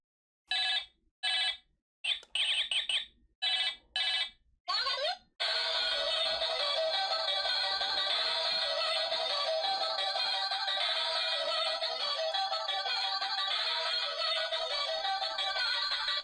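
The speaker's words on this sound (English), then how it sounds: "I collected like 3 or 4 of these toy phones myself, so I too am familiar with the sound they make." A toy phone rings in a few short bursts, then gives way to a continuous bright electronic ringtone melody that plays loudly and steadily to the end, with no talking.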